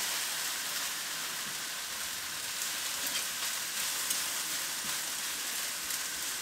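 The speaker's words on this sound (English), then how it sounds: "We're just going to sweat the veg off so it softens up a bit" Vegetables sweat in a wok for a sticky beef dish, giving a steady, even sizzle with soft crackles that runs unbroken from start to finish, close and moderately loud, with nobody talking.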